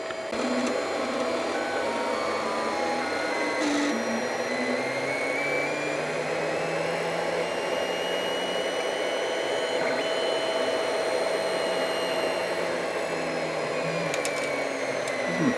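An Anycubic Chiron 3D printer runs a bed level test G-code, producing a steady, continuous mechanical whir with whining motor tones that rise and fall as the x-axis carriage and cable chain sweep back and forth, close and alone.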